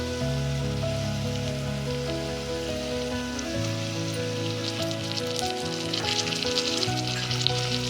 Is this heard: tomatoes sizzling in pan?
yes